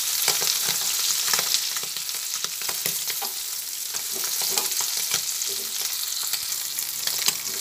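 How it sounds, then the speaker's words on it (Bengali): Fish frying in oil in a pan as the pieces are flipped one by one, a loud steady sizzle with crackles and spatter throughout, close up and without talk. "একদিক ভাজা হয়ে গেছে, সেই জন্য উল্টে দিচ্ছি মাছগুলো।"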